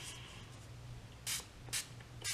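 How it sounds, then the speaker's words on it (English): BH Cosmetics Studio Pro setting spray is misted onto a makeup brush in three short, sharp hissing pumps, close and distinct against a quiet room hum. "I'm gonna get my BH Cosmetics Studio Pro setting spray, and I'm just gonna spray my brush"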